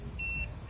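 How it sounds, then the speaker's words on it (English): A race timing chip beeping at a checkpoint: two short, faint, high electronic beeps in quick succession over low background rumble. "you need to put the the timing chip inside that hole, and it'll make a beep"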